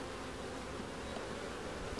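A steady, dense hum of honeybees buzzing around the frames of a hive, close and continuous with no pauses or talking.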